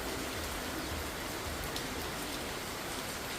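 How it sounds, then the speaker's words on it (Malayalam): Steady rain pours onto rain-soaked garden plants and lilies, a dense, even hiss of countless drops that is close and continuous throughout, with no voices. "നല്ല രസമാണ് കാണാൻ മഴ ഇങ്ങനെ പെയ്തുകൊണ്ടിരിക്കുമ്പം."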